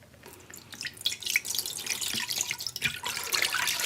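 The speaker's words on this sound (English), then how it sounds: "we're going to take our apple cider, and I'm going to put it in a pot" Apple cider pours into a cooking pot, a soft steady liquid stream with drips and splashing, fairly close and uninterrupted, with no talking.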